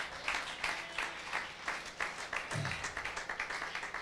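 Church congregation applauding and clapping through a sermon pause, a dense steady wash of many hands at moderate distance with no speech over it.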